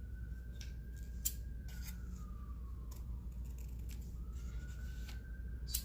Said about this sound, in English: Yes, there's sirens coming by.